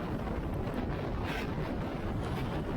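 Wind buffeting a rider on a Suzuki Address 113cc scooter at about 105 km/h with two people aboard, a loud continuous rushing roar with gusty swells and no talk.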